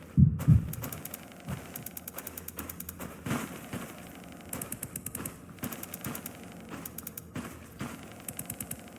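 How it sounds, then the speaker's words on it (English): A heartbeat-like pulse from an object scan in the Lidar Exploration Program game, rapid repeating thumps in clustered bursts with bright mechanical clicking over a low hum, steady and fairly loud throughout. "you hear that heartbeat sound? That's because this is the object's media scan."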